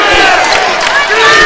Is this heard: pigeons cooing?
no